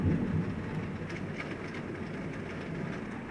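Heavy tropical downpour in Bangkok, a dense, steady roar of rain with a constant wash of hiss and no distinct drops or voices.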